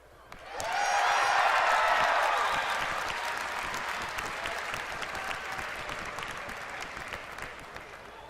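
A large audience at a BlizzCon World of Warcraft panel bursts into loud cheering and applause that peaks quickly, then settles into sustained clapping that slowly fades.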